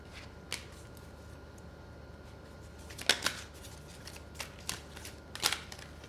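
A deck of tarot cards being handled and shuffled, with faint, scattered riffles and flicks, a few sharper slaps standing out over a quiet room hum.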